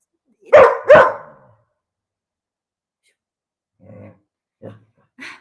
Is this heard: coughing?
no